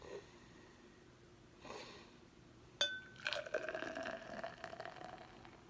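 New Belgium La Folie sour beer, a 2017 bottle, is hard-poured into a glass: a faint clink, then a close, bubbling glug and fizz of liquid filling the glass.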